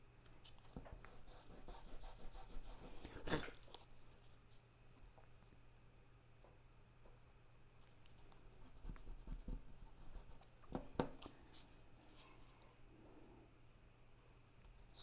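A pencil drawing a barn on paper makes soft, close scratching and rubbing strokes in irregular bursts, with a few sharper taps, faint overall with no voices.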